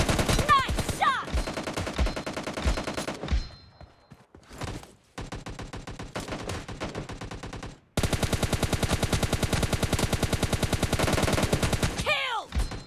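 Automatic weapons fire in a team deathmatch shooter video game: rapid, loud bursts of machine-gun shots in long sustained strings, broken by brief pauses and a few sharp single reports.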